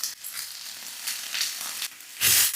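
Vegetables with a tablespoon of mirin fry in a hot pan, giving a continuous close hiss and sizzle that swells into a louder burst near the end, with no voices.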